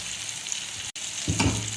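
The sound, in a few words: tadka spices frying with ground red chili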